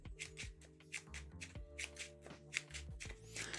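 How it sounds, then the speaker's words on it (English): A deck of board game cards being shuffled in repeated riffling bursts, close and crisp, with game music or a low steady hum running underneath throughout. "All right, so shuffle up."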